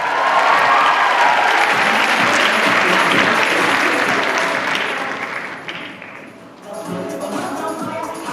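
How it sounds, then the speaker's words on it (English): Loud crowd applause with some cheering at a cosplay contest, swelling at first, dipping briefly near the end, then picking back up. "Give them a round of applause, guys!"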